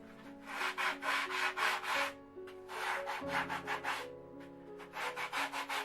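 Steady rhythmic rubbing strokes of a 3M sanding sponge against a foam form, close up, in repeated bursts with brief pauses, over a faint hum and music.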